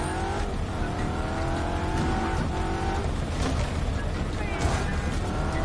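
Car driving in the video game Just Cause 3, a rough engine drone with tires squealing and skidding, plus scattered mechanical clanks, continuous and fairly loud.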